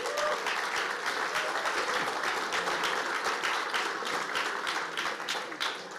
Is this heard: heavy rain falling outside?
no